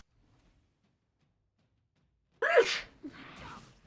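A single sharp sneeze bursts out nearby after a few seconds of near silence, followed by a softer breathy tail.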